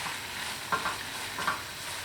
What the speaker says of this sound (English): So we're just turning it around in the pan